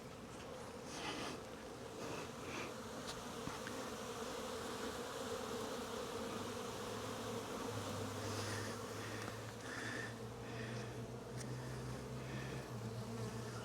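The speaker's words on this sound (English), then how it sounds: "that's a full box of bees right there" Honeybees hum steadily from a full hive box opened during an April inspection, a dense, continuous drone with a few individual bees buzzing closer by now and then.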